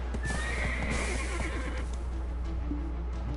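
A horse whinnies with a long rising-falling call over steady game music, with faint clip-clop hoofbeats in the mix, in the video game Black Desert.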